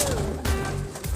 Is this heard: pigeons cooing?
yes